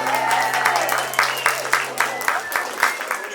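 Audience at a Comité Louis Braille anniversary event applauds as Odile joins on stage, dense clapping throughout with a steady tone beneath, moderately loud in the hall.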